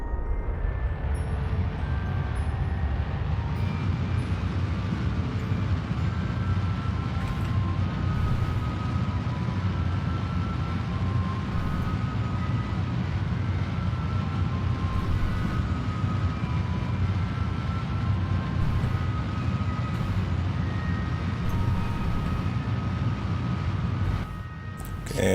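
A steady, roaring rocket engine in Kerbal Space Program holds a constant loud rumble for over twenty seconds, with faint clicking interface blips on top, cutting off abruptly near the end.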